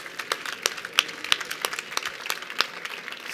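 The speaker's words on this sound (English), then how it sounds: "I think we should give them a big round of applause" Scattered audience applause at a corporate start-up event, with light, uneven claps spread across a medium-sized crowd at moderate distance.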